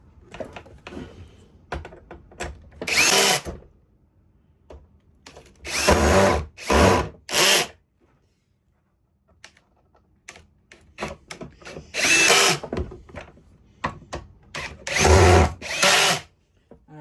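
A cordless power drill drives screws into a Eureka Airspeed vacuum during reassembly, in several short whirring bursts separated by pauses and light plastic handling clicks, loud and close.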